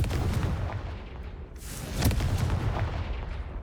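A fire spell cast in the video game Hogwarts Legacy bursts with loud booming blasts, one near the start and a sharper one around two seconds, over continuous rumbling game background noise.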